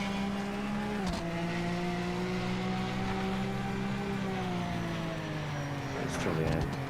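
A race car in the Gran Turismo 4 video game holds a loud, sustained engine drone whose pitch dips and climbs through a turn, with brief tyre squeal near the end and no pause in the noise.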